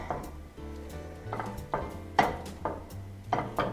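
Ground beef being broken up in a frying pan with onion, a series of close, irregular scraping and tapping strokes of a utensil against the pan over a low hum.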